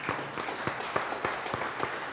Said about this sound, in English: so give them a quick round of applause